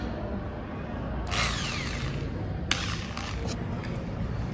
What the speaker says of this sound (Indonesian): di sini kita perlu menghidupkan mesin bor tangan terlebih dahulu